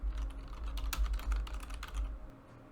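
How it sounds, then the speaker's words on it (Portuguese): Steady typing on a computer keyboard, a quick run of close, crisp key clicks at moderate level over a low background hum, entering a methane combustion reaction into process simulation software. "Vamos escrever a reação."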